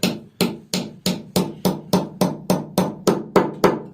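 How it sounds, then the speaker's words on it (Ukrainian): A small hammer strikes nails into wooden beehive frames in an even, steady rhythm, about a dozen sharp close-up taps with no talking. "Молоточок, цвячок і по пальцях."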